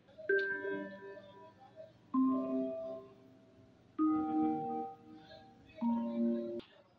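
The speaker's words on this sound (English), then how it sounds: "Then I added a bell." A bell part layered into a produced song arrangement rings out in four bright struck chords, each decaying over about two seconds, with a melodic backing underneath and no talking.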